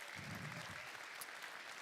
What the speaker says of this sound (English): Let's give a big round of applause for Marissa and Sabrina, everybody.